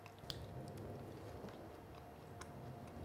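Chocolate-coated crickets being chewed close up, a steady soft crunching with a few sharper crisp bites over roughly three seconds, quiet and with no talking.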